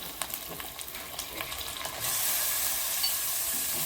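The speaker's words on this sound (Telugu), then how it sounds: "నెక్స్ట్ మనం కడుక్కున్న మటన్ మొత్తం దీంట్లో వేసేయాలి." Washed mutton tipped into a hot pan of Telangana-style curry base sets off a sudden, loud, steady sizzle that jumps up halfway through and holds, with a few scrapes and clinks before it.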